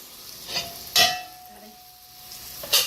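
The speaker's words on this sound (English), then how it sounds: "The mushrooms are frying, and they're almost fried." Faint sizzling of mushrooms frying in a pan broken by a few sharp scraping stirs of a utensil, close by and otherwise quiet.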